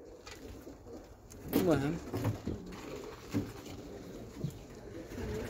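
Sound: pigeons cooing

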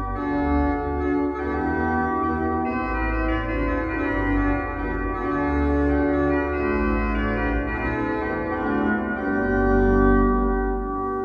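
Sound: Johannus LiVE 2P digital organ cornet stop playing

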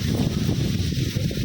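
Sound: wind blowing outdoors

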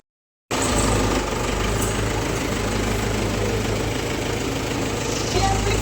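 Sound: tractor engine running

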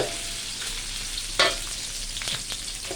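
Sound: stir-frying red curry paste in a pan

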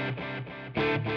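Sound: guitar through Nova delay pedal

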